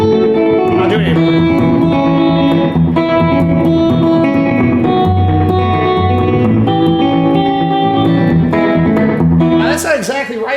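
Rockabilly electric guitar plays a bluesy lick over a held bass note, with a distinct echo effect repeating each note. The playing is loud and continuous, with a brief scrape near the end.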